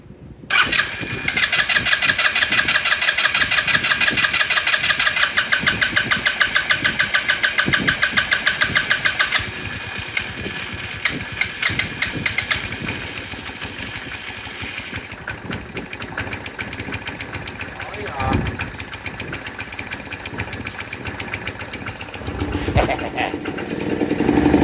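A Lance Cali Classic 125cc scooter engine cranks and catches, then runs unevenly at close range. It holds a steady, buzzy idle with small revs rising and dropping, and no voices are heard over it.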